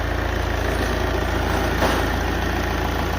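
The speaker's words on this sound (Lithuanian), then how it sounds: "Variklis kūrenas." Diesel engine of a Volvo V40 2.0d D4 idling, with a leaking coolant hose, a steady close rumble with an even mechanical hum throughout and no speech.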